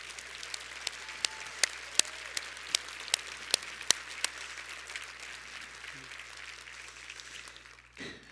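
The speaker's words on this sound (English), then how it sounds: "Please give them a round of applause." An audience at a State of the City event applauds, with a sparse, moderately distant patter of separate claps that thins out and fades after several seconds.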